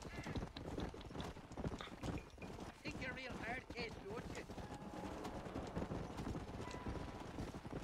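Horse hooves clip-clop steadily through a Red Dead Redemption game scene, partly masked by people talking over them and some wind-like noise.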